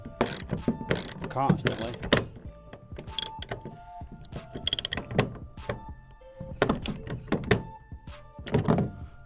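A hand ratchet clicks in short bursts as it snugs up a lock nut while building a jon boat stabilizer, close and fairly faint, mixed with some clanks of handling and a few spoken words.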